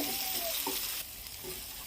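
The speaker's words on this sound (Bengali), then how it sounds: "এবার আমি কষছি, সব কিছু গুঁড়ো মশলা দিয়ে কষে নেব।" Prawn malai curry masala with ground spices sautéing and being stirred in a pan, a steady close sizzle with a few scraping stirs, softening slightly halfway through.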